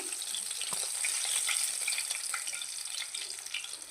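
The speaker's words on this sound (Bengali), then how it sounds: "বাকি মাছগুলো ভেজে নেব।" Bata fish frying in oil gives a soft, continuous crackling sizzle with light popping, fairly quiet and without any talking.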